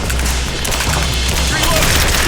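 Battle gunfire in the Rise of the Tomb Raider video game, a dense continuous fusillade of rapid shots and booms at steady loudness, with game voices shouting over it throughout.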